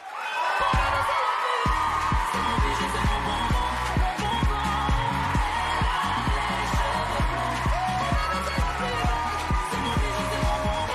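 A studio audience at the Secret Story 2026 prime show gives loud, sustained applause mixed with cheers and whoops. It carries steadily over the full stretch with music playing underneath.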